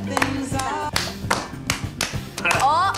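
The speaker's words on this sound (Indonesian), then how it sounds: "mengajaknya melakukan permainan tepuk tangan" Two people play a hand-clapping game, slapping palms in a quick patterned rhythm of crisp, close claps while a voice speaks in between.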